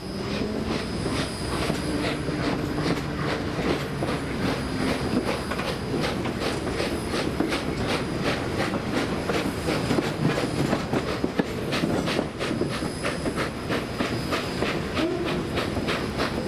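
Riding aboard a Pennsylvania Railroad car behind a steam locomotive gives a continuous rumble and hiss, with a steady clickety-clack of wheels over rail joints throughout.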